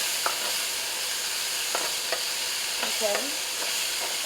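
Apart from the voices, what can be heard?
stirring celery and vegetables sizzling in hot pan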